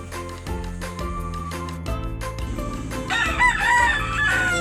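A Laguna pumpkin sweater gamefowl rooster crows near the end over a loud bed of music, its call rising above the instruments in the last second or so, with no speech.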